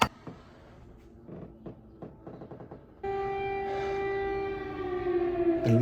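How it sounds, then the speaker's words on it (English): Wartime air raid sirens in Ukraine, where a few scattered clicks and taps give way midway to a loud, sustained wailing siren tone that holds steady and swells toward the end, with no speech. "The sirens seem even louder on this side."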